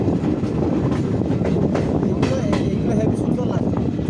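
A train rumbles along the rails into New Haflong, Assam, with rhythmic clattering and a steady low roar, close by, with faint voices underneath.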